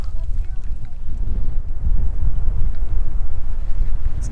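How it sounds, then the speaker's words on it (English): Gusty wind over an alpine lake buffeting the microphone with a low rumbling roar, steady and close, over faint background water. "Getting more and more windy."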